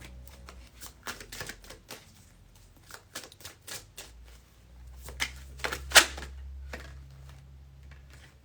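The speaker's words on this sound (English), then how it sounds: "I'm going to pull one more card." A deck of tarot cards is shuffled between card pulls in a reading, giving a run of quick papery riffles and soft flicks that come in uneven bursts, close and fairly quiet, with no talking.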